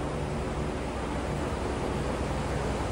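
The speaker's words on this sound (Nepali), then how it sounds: "बगेर आएको यो खोला" Glacial meltwater stream flowing down from the Khumbu Glacier below a holy mountain in the Everest region, a steady, dense rushing roar that fills the clip without break and with no voices.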